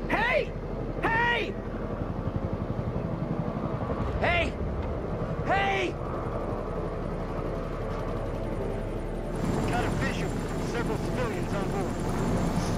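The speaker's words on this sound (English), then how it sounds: "Oh my god, a helicopter." A helicopter in the video game Man of Medan gives a steady, rhythmic rotor chop and engine drone throughout, under several people talking.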